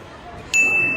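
A small bell dings once at a trampoline park basketball hoop, a sharp bright strike followed by a long sustained ring over background crowd hubbub.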